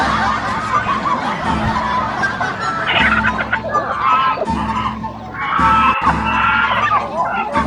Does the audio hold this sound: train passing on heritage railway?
no